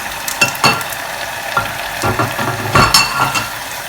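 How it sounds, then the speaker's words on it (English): Prawns fry in butter in a small wok, a steady close sizzle with clattering stirs and scrapes in uneven bursts throughout, no talking. "in this little wok here, we're going to cook some prawns"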